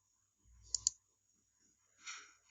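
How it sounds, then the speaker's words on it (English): A computer mouse clicks twice in quick succession during Photoshop retouching work, close and crisp, followed by a softer faint click after a short pause, with no talking. "you have to alt click this layer"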